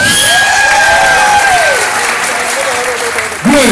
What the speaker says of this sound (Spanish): para que la gente vea el aplauso y tal